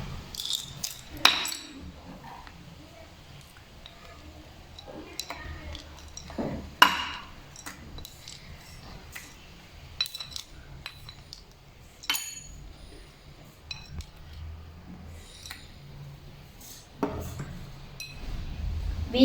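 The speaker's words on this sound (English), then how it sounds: "Now we are going to add ice cubes." Ice cubes drop into a glass of homemade pineapple juice, producing a scattered series of sharp clinks and knocks against the glass, some louder than others, over a quiet kitchen background.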